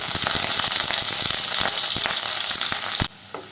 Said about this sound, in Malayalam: ചട്ടി ചൂടായി അതിലേക്ക് ഇനി കുറച്ച് ഉള്ളിയും അതുപോലെ കുറച്ച് വേപ്പിലയും ചേർത്ത് കൊടുക്കുന്നുണ്ട്